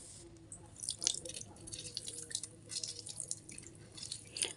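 Fresh lemon juice dripping as lemons are squeezed by hand, faint, close, irregular drips and wet squishes over quiet background noise.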